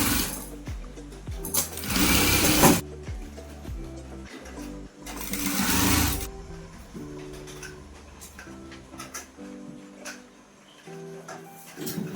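Sewing machine stitching elastic onto fabric, heard close up as two loud bursts of rapid whirring stitches separated by pauses, followed by softer mechanical ticking and handling noises.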